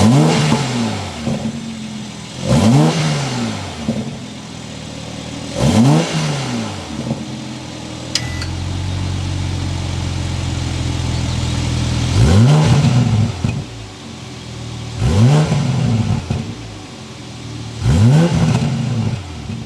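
A 2022 BMW 840i Gran Coupe engine revs repeatedly in sharp rising bursts, with a steady idle between them, loud and close, exhaust growling after each rev.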